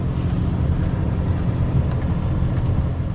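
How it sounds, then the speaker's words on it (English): A truck in 4-low, second gear grinds slowly through muddy ruts at a snowy homestead, a steady low engine rumble with faint road-like hiss, close and even for a few seconds. "So I've got the truck in 4-low, second gear."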